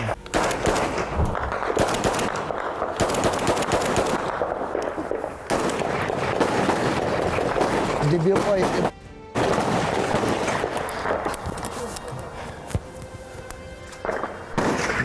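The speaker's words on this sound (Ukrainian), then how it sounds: "Тут всі хати стріляють, коротше." Repeated sharp bangs and bursts of gunfire crackle nearby, fast and irregular, with a brief pause midway and a muffled voice at one point.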